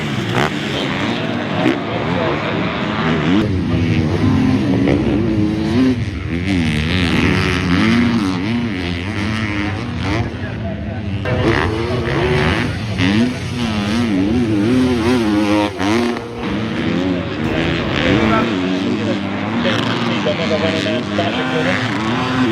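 250-class motocross bikes race with throttles twisted wide open, a continuous loud engine howl with rising and falling revs through the whole stretch, mixed with a commentator talking over it.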